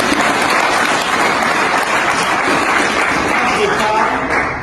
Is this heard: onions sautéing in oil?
no